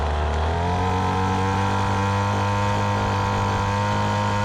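Small engine idling steadily with its fuel line disconnected to run the gas out of the carburetor, a loud, continuous buzzing drone heard up close without change.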